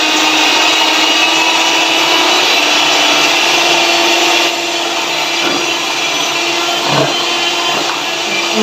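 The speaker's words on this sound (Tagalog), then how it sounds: "So, ito na ang aking electric mixer." An electric mixer running while ice cream mixture is being made, a loud continuous motor whine and buzz that stays steady throughout, dipping slightly partway with brief scraping knocks near the end.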